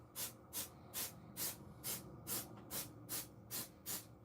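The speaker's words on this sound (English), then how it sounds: "That's a spray release." Short bursts of silicone mold release spray hiss out in a steady rhythm, about nine quick sprays from a can, close and fairly quiet.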